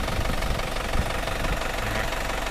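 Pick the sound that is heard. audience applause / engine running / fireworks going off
engine running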